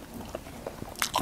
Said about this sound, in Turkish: İlk lokmayı sizler için alıyorum.